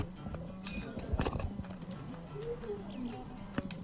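Quick clip-clop horse hoof beats in a video game patter over a low hum, with a faint whinny-like tone in the middle, fairly quiet and close.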